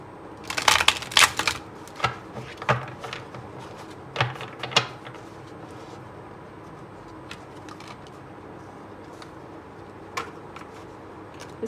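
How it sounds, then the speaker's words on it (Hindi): Tarot cards riffled and shuffled by hand, with bursts of crisp flapping and snapping in the first five seconds, then scattered soft taps and rustles at close range with no talking. "अरे कई बार अच्छा शफल नहीं होता, एक बार और करते हैं, फिर 2 बार और करना पड़ेगा।"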